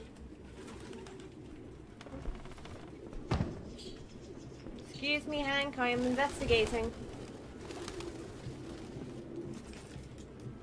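Pigeons in the video game Detroit: Become Human coo and flutter softly in a room, with a clearer burst of cooing midway, while someone talks over the ambience.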